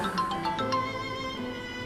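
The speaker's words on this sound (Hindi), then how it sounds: "उफ, उठ क्यों रहे हैं? बजने दे जिसका भी फोन है।" A phone ringtone sounds in a dubbed TV drama scene, playing a short repeating melodic pattern of bright tones at moderate loudness, with no one speaking over it.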